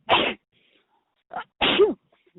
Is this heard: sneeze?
yes